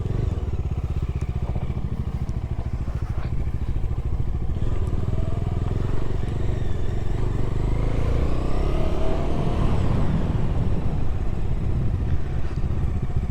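A motorcycle on an off-road trail, its engine running loud and close with a continuous throbbing idle and low rumble that rises in pitch as it revs up near the end.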